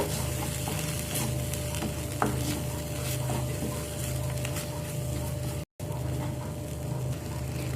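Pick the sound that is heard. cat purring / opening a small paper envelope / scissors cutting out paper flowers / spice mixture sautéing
spice mixture sautéing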